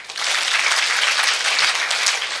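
Audience applause at the closing ceremony of summer classes in Salem, a dense, steady burst of clapping from a crowd, loud and close, with no talk over it.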